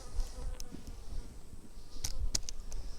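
Steady low insect buzzing from many honey bees around a hive, with a few brief higher-pitched whines passing close by, continuous throughout.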